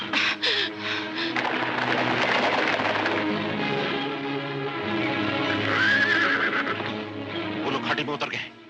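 Horses neigh loudly and hooves clip-clop during a chase through a valley in a Hindi action film, with heavy snorting and galloping that fill the scene under shouted voices.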